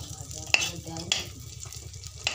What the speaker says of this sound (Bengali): এই চিংড়ি মাছে ভাজা হলো